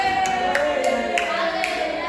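Brief scattered applause from a classroom audience, a few sharp claps spaced across two seconds over a steady background hum.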